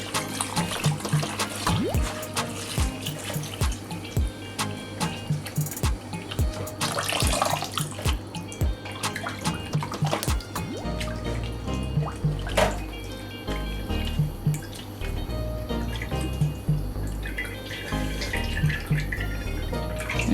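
A kitchen tap runs steadily into a sink while a raw chicken is washed by hand, with water splashing and dripping around it and irregular knocks and handling sounds.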